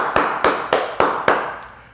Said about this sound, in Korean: 주님께 감사와 영광의 박수 올려드리겠습니다